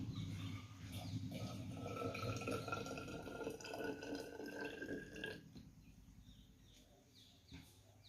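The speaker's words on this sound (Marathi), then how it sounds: "हे पाणी आपण थर्मासमध्ये टाकणार आहोत" Liquid gurgles and trickles as boiled water is poured into a thermos, the pitch rising as it fills, then stops.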